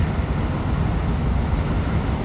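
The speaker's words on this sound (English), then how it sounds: "Man, the water's rough. We don't usually get those kinds of waves on the outgoing" Rough sea waves at the Port Aransas south jetty on the Corpus Christi ship channel, a steady low rumbling wash of water mixed with wind buffeting the microphone, loud and continuous, with no speech.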